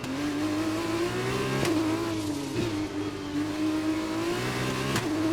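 Formula 2 race car engine in the video game F1 2021, droning at high revs with steady pitch, dipping briefly at gear shifts, continuous and close, no voices over it.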